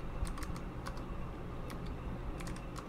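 Rapid, steady keystrokes on a computer keyboard while code is typed, a dense run of close clicks and taps going on without pause and with no voice over them.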